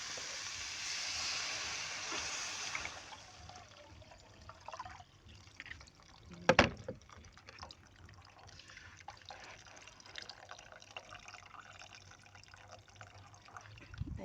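Coconut milk (gata) poured into a reddish dish while it cooks, making a soft liquid trickle and fill. A brief louder splash comes partway through, with low, quiet bubbling and kitchen noise around it.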